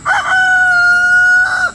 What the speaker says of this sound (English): There's a rooster.